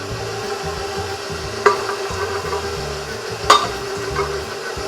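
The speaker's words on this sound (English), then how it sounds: "Next, we're going to stir in the raisins" Raisins are stirred into oatmeal cookie dough in a bowl: a soft, repetitive thick scraping and squishing, close up, with two sharper knocks of the utensil against the bowl.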